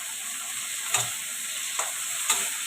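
Chopped tomato goes into a frying pan with a continuous bright sizzle, punctuated by three short spatula knocks or scrapes spaced across the moment.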